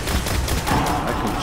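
Rapid bursts of gunfire crackle loudly and densely in Destiny: The Taken King, overlapping shots filling the moment aboard the Dreadnought with no speech.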